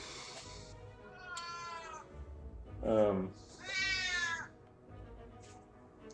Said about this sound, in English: How loud is that cat? Can you hear that cat clearly, or not?